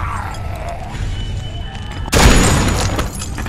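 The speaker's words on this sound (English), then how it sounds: "Shoot this asshole, Vince!" A gunshot goes off in The Walking Dead video game, a single sudden loud blast that then rings out under a lingering noisy tail. Game ambience sits beneath it.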